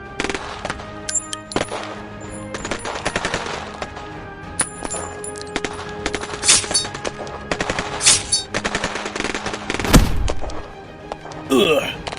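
Gunfire sound effects fill a Thai-dubbed manga: rapid, loud machine-gun bursts and thudding shots over a busy, dense soundtrack, with a sweeping whoosh near the end.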